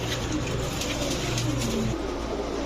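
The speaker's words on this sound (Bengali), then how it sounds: "এগুলো হচ্ছে তার ব্রিডের কবুতর" Budapest breed pigeons coo in low repeated phrases close by, over a constant background hum.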